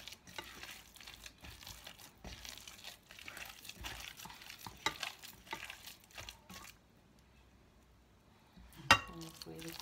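Cassava fritter batter is stirred in a bowl, producing irregular soft scraping and crinkly rustles with small clinks, and a pause near the end before a sharper knock.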